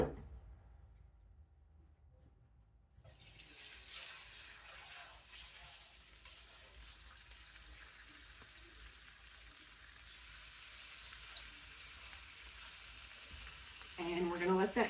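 Chicken frying in oil in an electric skillet gives off a steady, even sizzle that swells after a brief quiet start and holds close and constant, with a clatter near the end.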